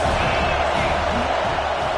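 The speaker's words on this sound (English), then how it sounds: "This crowd trying to make life miserable for this offense." Dense stadium crowd roar at a college football game between Notre Dame and Oregon, a steady loud wash of voices filling the whole two seconds with no breaks.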